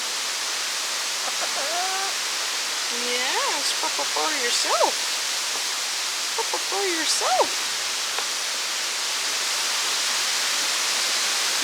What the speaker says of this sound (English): Sorry about the wind. It's another one of our crazy windy days.